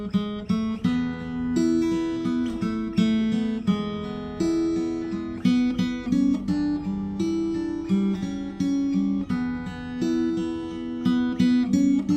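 Acoustic guitar plays a song in E, open strings droning under a rhythmic melodic pattern, close and steady, with no talking.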